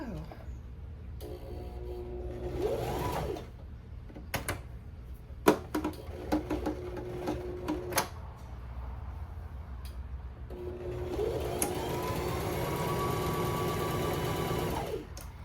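A home sewing machine stitches the waistband of a Butterick 6296 pajama set, its motor whirring steadily in two runs separated by a pause with a few clicks, while someone talks over it.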